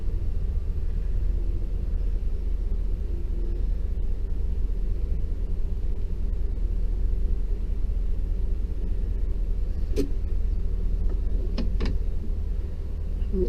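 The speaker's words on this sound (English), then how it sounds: "Put it in park. You can hear it when it goes into park." A 4L85E automatic transmission shifting into park, with a retrofitted parking pawl engaging: a few sharp clicks near the end cut through a steady, loud low rumble of the idling vehicle.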